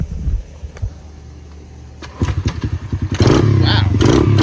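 A pit bike's small single-cylinder engine, started with the choke on, comes in after a couple of thuds and settles into a loud, steady close-up idle with some stuttering, carrying over from under faint sound at first.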